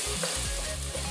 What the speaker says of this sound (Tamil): வெங்காயத்தை நல்லா வதக்கணும்